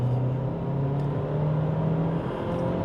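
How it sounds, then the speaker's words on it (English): MG GT Sport engine at full throttle, a steady droning hum that holds its pitch and rises slightly through the pull, heard from inside the car with no talk. "Then there's actually a lovely sound when you really floor it. The engine actually sounds really nice."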